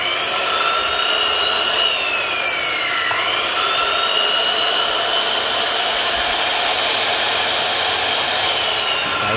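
A Makita handheld cutter fitted with a 216 blade runs loud and steady, a high whining motor drone whose pitch dips briefly and recovers, sustained close up for over nine seconds with no talking.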